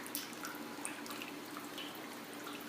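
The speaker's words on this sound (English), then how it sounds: "out of the hot liquor tank, into this contraption, slowly dripping water here" Water drips slowly from a hot liquor tank into a home-brewing contraption, a soft, continuous trickle with faint drops over a low background hiss.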